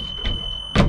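Emergency exit door at the back of a propane-powered school bus, opened during a pre-trip inspection: a soft thunk followed by a louder burst of mechanical clatter near the end, over a steady high electronic buzz.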